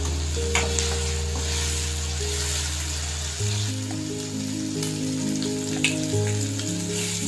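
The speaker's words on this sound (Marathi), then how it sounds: "तर आता हा कांदा आणि आलं लसणाची पेस्ट हा मी भाजून घेतलेला आहे" Onion and ginger-garlic paste frying in a pan, a steady close sizzle with occasional stirring clicks, under sustained low musical tones throughout.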